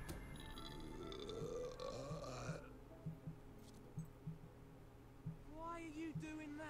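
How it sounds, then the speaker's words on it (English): A prince character in the video game Fable 3 lets out a long, loud, rumbling belch, followed by quieter game sounds with short thuds and a brief voice near the end. "I command you as prince to appreciate my belch."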